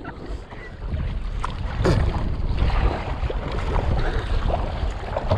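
Kayak slapping into choppy waves on a windy day, with wind buffeting the microphone and irregular splashes and thumps against the hull, close and fairly loud throughout.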